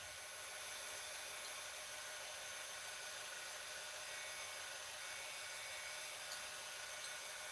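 A pen blank being sanded on a lathe gives a continuous, even hissing rasp that stays steady and fairly quiet throughout, with no talking.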